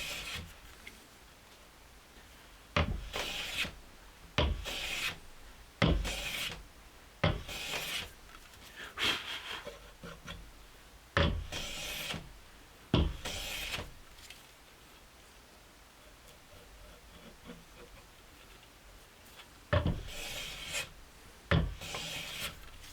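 Hand tool taking shavings off wood while fitting a dovetailed stitching tray, repeated short rasping strokes at an uneven pace with quiet gaps between, close and fairly soft.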